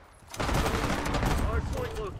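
Rapid automatic gunfire in the multiplayer shooter Black Ops 6, a dense continuous burst running nearly the whole time under excited players' voices.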